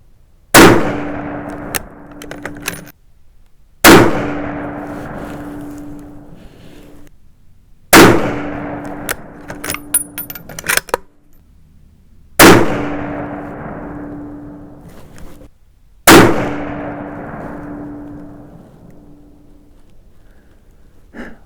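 Five loud .243 Winchester rifle shots fired at a target, each a sharp crack followed by a long fading echo, spaced about four seconds apart with quiet between.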